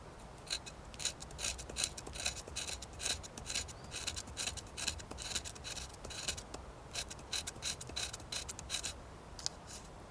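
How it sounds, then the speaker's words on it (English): Quiet, close, rhythmic scraping of a knife blade along wood, repeated rasping strokes shaving fine fire tinder in a winter outdoor setting, with no voices. "scraping whilst holding it tight"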